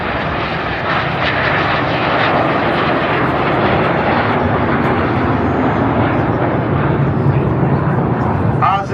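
Red Arrows display jets at an airshow roar past with a loud, broad continuous jet rumble that holds strong throughout, close and powerful, while a commentator talks over the noise.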